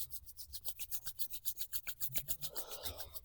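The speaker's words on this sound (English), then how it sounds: "Just bring the hands together and just actually rub them to generate a little bit of heat." Two palms rubbed briskly together to build warmth, a quiet, close dry swishing in a steady back-and-forth rhythm of about eight strokes per second, alone with no voices.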